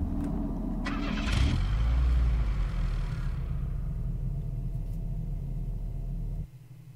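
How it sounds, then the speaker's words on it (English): A video game Tesla Cybertruck engine cranks and turns over, then settles into a steady low idle rumble that cuts off abruptly near the end. "Let me get in my cyber truck."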